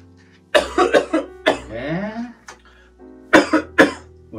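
A series of harsh coughs in quick bursts, a pause, then another cluster of coughs, close by and fairly loud.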